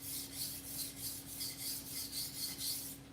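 A knife blade is scraped over a sharpener in a steady run of about eight rasping strokes. The strokes are close and moderately loud, and there is no talking.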